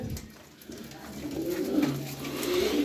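Pigeons cooing in a loft, soft low repeated coos rising slightly in loudness over a few seconds, close by and alone without talk.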